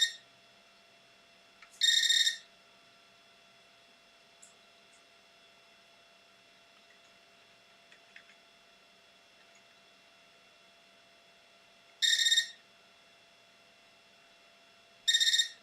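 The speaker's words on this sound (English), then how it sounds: "So those beeps are just I guess the keyboard being sent like a million signals at once and complaining" Short high-pitched electronic beeps from a Canon PC with a keyboard error sound at irregular intervals, three brief bursts separated by long stretches of quiet hum.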